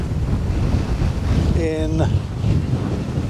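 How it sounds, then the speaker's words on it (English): Gusty wind blows outdoors during a landscape photography shoot, a steady loud rush buffeting the microphone throughout, with a short voiced word partway through. "Now the wind is quite gusty, which is good"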